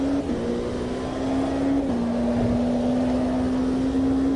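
An over-revving race car engine in Automobilista 2 holds a loud, steady high whine that dips slightly and climbs again, droning on without a break.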